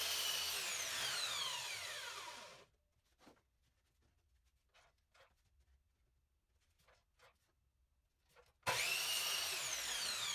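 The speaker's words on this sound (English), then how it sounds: "So I'll cut this strip to length here at the miter saw." Miter saw cutting a wooden strip to length for a garage door fishing rod holder: a loud whining cut at the start, a quiet gap with faint handling clicks and taps, then a second loud cut near the end.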